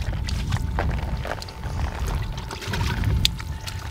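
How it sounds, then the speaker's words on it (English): Water runs from an outdoor camp shower in cold weather, a continuous splashing and pouring with uneven spatters and drips, close and moderately loud, with no talking. "I've had a few comments asking me about this shower."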